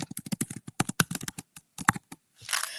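Quick bursts of typing on a computer keyboard, close and crisp, with uneven clusters of keystrokes and short pauses, ending in a brief rustle.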